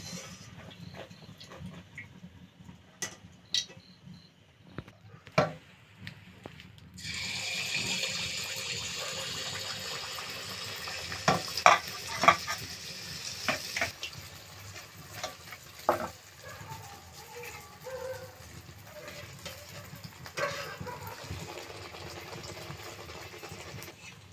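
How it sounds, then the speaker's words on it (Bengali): Egg and flour pitha cakes fry in a pan. After a quiet opening with scattered clicks, a hissing sizzle sets in and continues, joined by intermittent utensil knocks and scrapes, and no one speaks. "ডিম পিঠে ভাজা আমার প্রায় শেষের দিকে"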